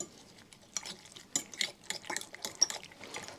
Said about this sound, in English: going to put these in the jar with the mayonnaise, lemon, salt and pepper. And just give it a whisk round